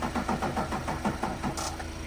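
A truck engine with a weak battery cranks slowly and laboriously, a rhythmic churning of roughly ten labored turns that never catches, close and steady throughout.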